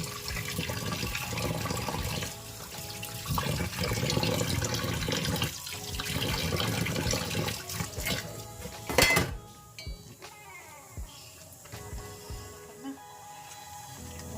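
Fish rinsed with water in a kitchen sink, splashing and a running tap mixed with clattering pots and dishes, fairly close, easing into sparser drips and clinks toward the end.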